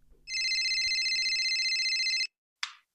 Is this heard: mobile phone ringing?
yes